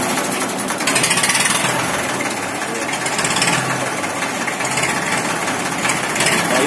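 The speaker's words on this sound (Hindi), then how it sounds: "अभी आपको इसे स्टार्ट करके दिखाऊंगा, इसकी आवाज देखियो" A 1987 Massey Ferguson 35 tractor engine idles steadily up close, a loud continuous diesel chug with a knocking rhythm and no talk over it.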